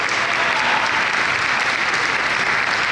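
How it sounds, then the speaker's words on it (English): An audience at a Scholastic interview event gives a round of applause for illustrator Mary GrandPré, a steady, even wash of clapping from many hands throughout. "let's give Mary a big round of applause"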